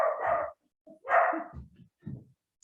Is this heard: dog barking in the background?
yes